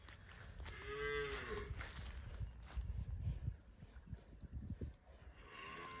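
Cattle at a farm offered for sale moo, one clear low call standing out nearby over rustling and shuffling noise, with fainter lowing later on.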